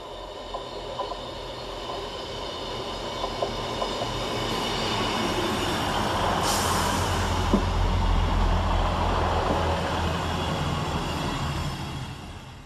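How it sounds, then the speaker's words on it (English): A Northern class 158 diesel unit, 158902, arrives at Outwood station on a Leeds to Sheffield service, its rumble and rail noise swelling steadily with a brief wheel squeal midway, no voices heard. "Arriving next into the station is 158902, working the 1059 Northern service from Leeds to Sheffield."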